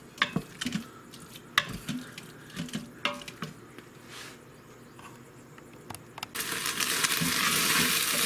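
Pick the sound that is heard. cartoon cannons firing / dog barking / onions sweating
onions sweating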